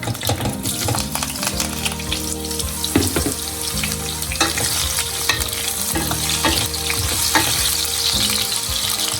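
Raw mango pieces fry in hot oil with curry leaves and spices, a loud steady sizzle broken by repeated scraping stirs of a spoon in the pan.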